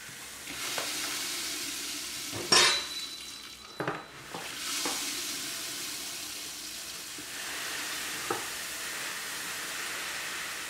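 Malted grains tipped quickly into warm water in an SS Brewtech brewing setup for a honey tripel, then stirred: a soft pouring rush and splashes, followed by steady swishing and stirring with occasional clunks, no talking.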